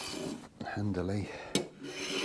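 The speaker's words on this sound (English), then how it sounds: "It's actually planing better in that direction" Hand plane shaves fretboard marker material on a workbench, with two or three short rasping strokes nearby and a sharp knock partway through, mixed with speech.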